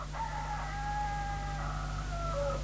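A rooster crows once in a long drawn-out call as a sound effect played over radio, heard over a steady low hum and hiss.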